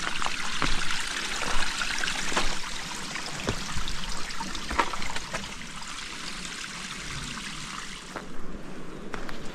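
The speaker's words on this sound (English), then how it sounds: "That's a water source" A small trail-side water source trickles and splashes in a continuous, even burble, close by and alone, with a few sharper drips standing out.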